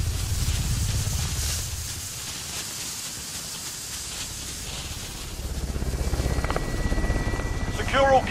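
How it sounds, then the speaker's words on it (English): Helicopter arriving in the Call of Duty Warzone video game, a steady droning rotor whoosh with hiss that grows louder toward the end, a game voice speaking over it. "Copy, helo is inbound for deposit."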